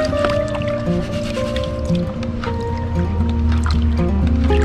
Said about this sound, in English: Let's pan it down in the tub and see what kind of gold we got.